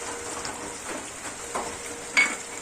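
Sautéed masala sizzles steadily in a pan as a little water goes in, with soft stirring scrapes and a brief sharper hiss near the end.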